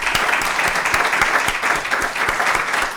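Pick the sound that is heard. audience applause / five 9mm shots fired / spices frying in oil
audience applause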